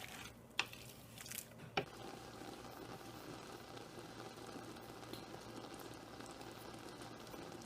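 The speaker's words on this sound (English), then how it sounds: "As you guys can see, our peaches are starting to bubble" Peach jam with no pectin bubbling quietly in a pot, a soft, steady simmering hiss with a couple of faint pops near the start.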